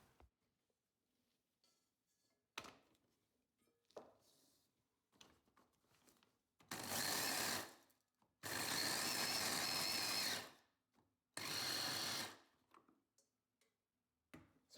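An electric grinder whirs in three loud bursts, the longest a few seconds, as fresh chillies are blended with garlic and ginger in a quiet kitchen, with faint handling clicks between runs.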